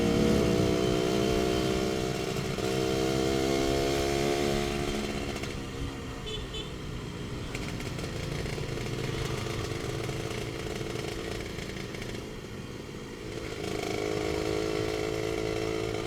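A Suzuki Satria R 120 motorcycle with an aftermarket Andyspeed exhaust revs and idles up close, rising and falling in pitch for several seconds with a raspy, loud exhaust.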